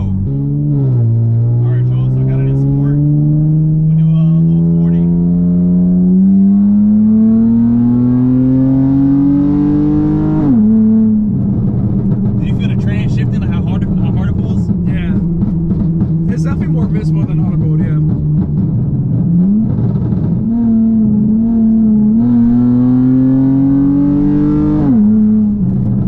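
A tuned V6 Dodge Charger accelerates hard in sport mode with a loud, close engine drone that climbs steadily in pitch through long pulls, broken by gear shifts, while a voice talks over it.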